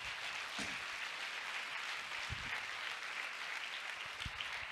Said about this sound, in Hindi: दोनों हाथ ऊपर कीजिए और तालियां जोरदार खुदा के जलाल के लिए।